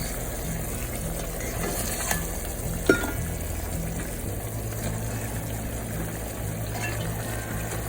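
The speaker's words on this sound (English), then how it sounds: "now we're just going to put in our pork chops" Pork chops going into a simmering sauce in a pan at home, a steady sizzling bubble running throughout with a few faint clinks and one brief sharp knock near the middle, no talking.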